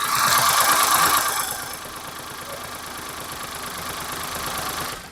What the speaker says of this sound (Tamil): ஸோ இன்ஜின் நாய்ஸ் கேட்டிருப்பீங்க.